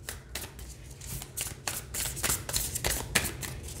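A deck of love-note cards is shuffled by hand, giving a series of crisp riffling bursts close up, with no talking.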